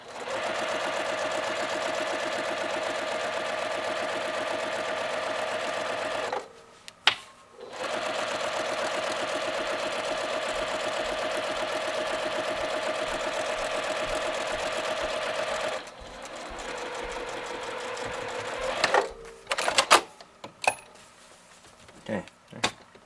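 A sewing machine stitching a channel in hammock fabric, running fast and steady for long stretches with short stops, then slower bursts and clicks as the stitching finishes.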